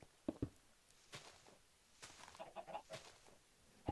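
Minecraft chickens cluck in short, scattered bursts, close and moderately loud, mixed with soft footstep thuds and no talk.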